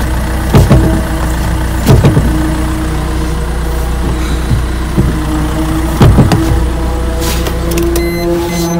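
A Maruti Swift engine idles steadily at close range with a clutch fault, broken by several sharp knocks and clicks from work around the car, and no talking.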